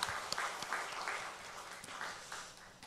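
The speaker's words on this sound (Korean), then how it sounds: "우리 찬양대 박수 한번 보내주시기 바랍니다." A church congregation applauds the choir after a hymn, a faint, distant patter of clapping in soft irregular bursts for a few seconds.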